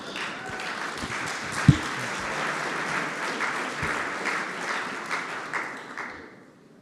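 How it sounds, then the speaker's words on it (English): An audience at the SWERC 2021-2022 programming contest closing ceremony gives a round of applause, with dense, steady clapping in a hall that holds for several seconds and then fades away. "a big round of applause both to the team and to Eduardo himself."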